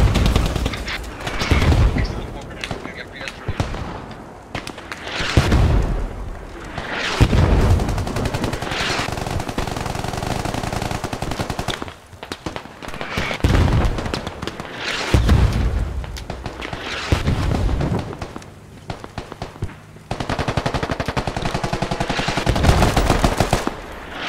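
Intense Squad battle gunfire: rapid machine-gun bursts from a BMP and booming mortar impacts come loud and close, in repeated dense volleys with short lulls, no talk over them.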